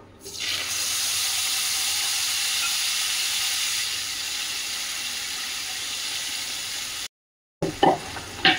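Tomato and ginger paste frying in a pan makes a loud, even sizzle and steamy hiss up close, then cuts to a brief silence and a few softer scraping stirs.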